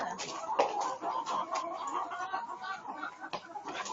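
Hens cluck steadily and overlap in a school chicken coop, a busy, continuous chorus of clucks and short calls heard up close.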